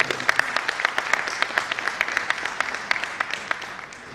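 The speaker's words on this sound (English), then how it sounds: "Ladies and gentlemen, give him a round of applause." Applause from an event audience, moderately loud with distinct claps standing out from the sustained patter, holding fairly steady and easing slightly toward the end.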